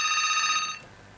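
A telephone on a radio call-in show rings with a steady electronic tone for under a second and then cuts off, signalling an incoming listener call; no talk over it.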